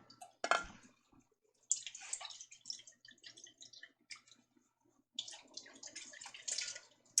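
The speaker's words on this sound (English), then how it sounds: "I might add a little water in there and kind of swish it around to get the rest of that sauce out of there" Water splashes and sloshes inside a cooking pot, swished around to loosen leftover sauce; quiet wet bursts come in three spells separated by near-silent pauses.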